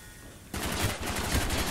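Rapid bursts of gunfire in the Call of Duty Black Ops campaign, loud and dense, erupting abruptly after a quiet start and continuing as sustained automatic fire.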